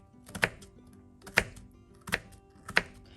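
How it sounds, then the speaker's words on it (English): A knife chops down through an onion on a cutting board: four crisp, evenly spaced thunks sound close and clear over a quiet room, with no talking. "we are going to use our knife, and we're going to cut down about 2/3 of the onion"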